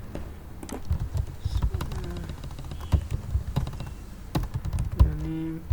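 Typing on a computer keyboard, a quiet, irregular patter of keystrokes close up against a low background hum, with no talking.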